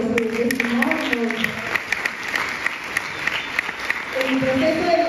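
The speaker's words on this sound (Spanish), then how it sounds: "un aplauso por su testimonio" An audience applauds a member's weight-loss testimony at a meeting, with a brief burst of clapping alongside voices that fades and returns.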